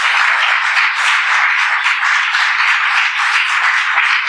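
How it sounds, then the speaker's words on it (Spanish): A church congregation applauding strongly in praise of the Lord, a continuous, loud wash of many hands clapping at close range with no pauses and no talk over it. "Dale un fuerte aplauso al Señor."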